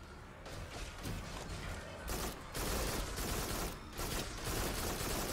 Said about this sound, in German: Zwei Schüsse und das Ding ist Bratze. Mit der Schrotflinte.